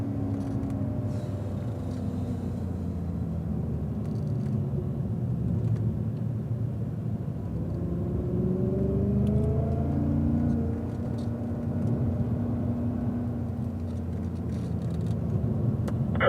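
A Cadillac CTS-V powering out of a corner on a racetrack, a steady engine drone with rising whir as the car accelerates, continuous and fairly loud throughout.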